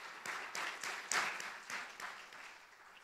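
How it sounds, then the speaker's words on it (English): An audience at an artist talk in a museum gives a round of applause, a fairly close clatter of many hands that peaks early, then gradually thins and fades. "let's give them a round of applause as well"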